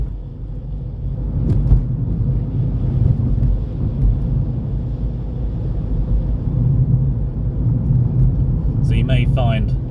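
A car drives along a road in bad weather, its engine and tyre rumble steady and loud throughout, with a brief voice near the end.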